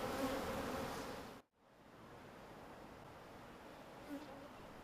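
Honeybees buzz around a hive kept in the middle of a city, a steady insect hum that dips briefly to near silence before resuming at an even, moderate level.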